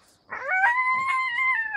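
A dog close by lets out one drawn-out, wavering howl-like whine that holds steadily for more than a second, with no talking.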